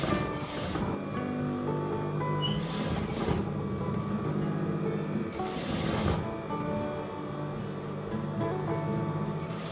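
A sewing machine stitches fabric with a steady, loud mechanical whirring drone. The whir runs nearly continuously, with brief changes in pace at a few points.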